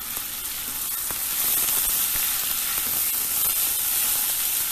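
Two chopped medium onions and a chopped large capsicum fry in hot vegetable oil, giving a loud, steady close-up sizzle with a few faint clicks of stirring and no voices.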